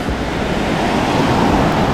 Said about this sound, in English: One of the longest, most beautiful white sand beaches in the world.